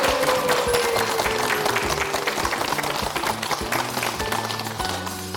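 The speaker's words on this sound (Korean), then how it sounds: "박수 한번 주세요." Studio audience applause on a Korean health talk show, steady loud clapping from many people that continues throughout with some musical tones in the background.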